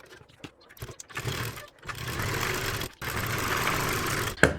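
A sewing machine stitching kurti sleeves runs in bursts, with short stuttering starts followed by long steady mechanical whirring runs that break off briefly, heard up close with no talk.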